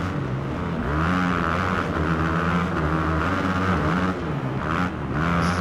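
A dirt bike engine in the Supercross 1 video game drones loud and steady at high revs, its buzzing tone rising and falling slightly as the bike races around the track.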